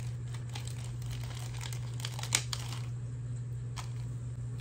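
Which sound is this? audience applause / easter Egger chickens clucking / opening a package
opening a package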